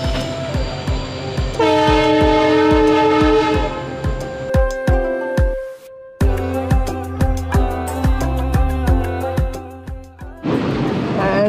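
Indian Railways train, number 2081, passing close by near a waterfall in Sittong, with loud rhythmic clickety-clack of wheels over rail joints, a horn blast, and steady rumbling of cars going by.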